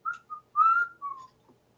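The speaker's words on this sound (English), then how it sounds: "please stop whistling" A person whistles a short tune into a microphone: a handful of clear, separate notes, one held longer than the others, sounding close and alone against silence.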